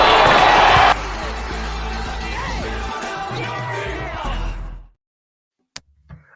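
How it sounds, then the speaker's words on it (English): Basketball arena crowd erupting in loud, sustained yelling and whooping, a dense roar that holds for about five seconds before cutting off abruptly into silence. "And the crowd goes crazy."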